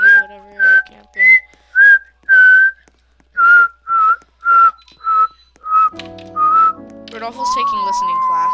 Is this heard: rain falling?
no